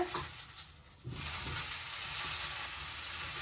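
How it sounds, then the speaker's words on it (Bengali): A loud, continuous sizzle of taro frying in hot oil, with a brief dip before it surges back to a steady, dense hiss. "এখন দিয়ে দিলাম কচু কচুটা আগে তেলে দিয়ে"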